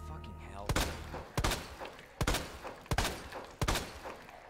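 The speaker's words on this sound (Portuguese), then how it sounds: "Tanto tiro na cabeça pra durar tanto assim." Gunfire in the Resident Evil 2 Remake survival horror game, five sharp loud shots spaced about three quarters of a second apart, each with a short echoing tail, standing alone without talk.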